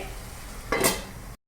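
Stirring sandge bhaji in a pan with coriander mixed in, a soft scraping swirl with a brief louder burst of sizzling midway, heard close and without talk.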